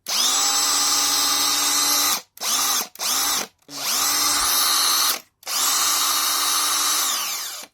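A Makita 8443D drill runs at full speed in loud, steady high-pitched whines, with several short bursts and quick stops between longer runs, close to the mic and with no talk.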